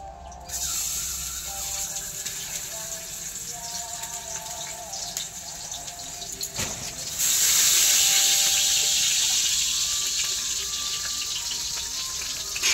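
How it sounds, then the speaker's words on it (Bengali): Fish dropped into a wok of hot oil in an Indian village kitchen, a steady hiss of frying that swells into a louder, bright sizzle halfway through and stays strong, close and without speech. "মাছটা কড়াই দিয়ে দিই"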